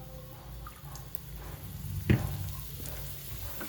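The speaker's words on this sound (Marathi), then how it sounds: "थोडंसं छान असं आपण भाजून घेऊया" Dal roasts in half a spoon of oil in a pan for curry leaf chutney, giving a low, steady sizzle with one brief louder scrape partway through.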